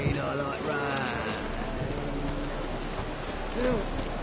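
Rainfall in the Witcher 3: Wild Hunt game, a steady hiss of drops on surfaces throughout, with faint tonal game sounds and distant voices layered over it.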